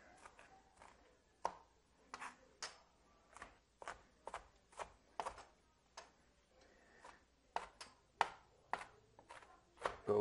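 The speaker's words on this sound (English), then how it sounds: "chop this up a little bit finer" A knife chops fresh herbs on a cutting board for chimichurri, about twenty crisp, close taps in a fairly steady rhythm with brief pauses, over a quiet background.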